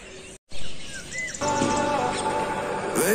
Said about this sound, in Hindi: केवल चारों तरफ पक्षियों की आवाजें आ रही हैं।